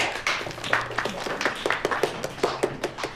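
Scattered, light hand claps from a small office group of magazine editors welcoming a new colleague, a dozen or so uneven claps at moderate distance.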